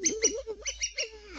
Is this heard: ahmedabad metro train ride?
no